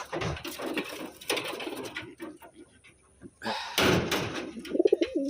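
Taiwan racing pigeons give soft, low coos and rustle their wings close by, amid handling clatter and a door-like thump. A sharper burst of activity comes midway, and a few flutters follow near the end.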